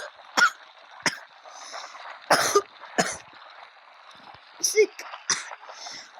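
Someone coughs and clears their throat several times in short, irregular bursts indoors, with quiet gaps and faint voices between the coughs.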